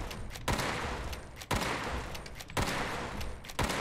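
Gunfire in the Fallout 76 video game: loud, dense bursts of automatic shots, broken by sharp heavy blasts at roughly one-second intervals, continuing through the whole stretch with no voices.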